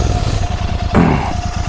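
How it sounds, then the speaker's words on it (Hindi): Stock exhaust of a Royal Enfield Continental GT 650 twin, a loud, steady close-up rumble with a brief rise in revs partway through, no talking. "सो ये था stock exhaust note of GT 650"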